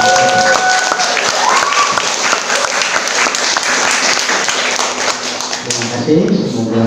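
Children in an audience give a sustained burst of applause during a COVID-19 health education session on making hand sanitizer, loud and steady with some talk underneath, fading toward the end.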